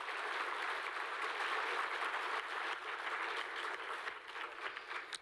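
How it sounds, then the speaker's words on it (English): A breakfast event audience applauds, a fairly distant, even wash of many hands clapping that holds steady and thins out at the close. "let's give them a round of applause"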